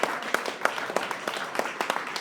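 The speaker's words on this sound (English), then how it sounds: "I really think that's worth a round of applause." Steady applause from a crowd, dense overlapping claps at an even level with a few sharper individual claps standing out.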